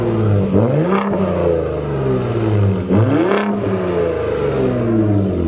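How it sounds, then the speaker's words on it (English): A 2021 Ford Raptor with a V6 engine and its exhaust revving, two sharp throttle blips rising over a steady loud idle, close up and heard alone. "I guess I'll give you a little teaser now of the sound before I make a full like exhaust video on how it sounds with the modes"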